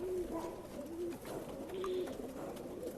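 Pigeons at a Bangalore pigeon seller's loft coo in soft, repeated low phrases over a busy background hiss, with faint other sounds around.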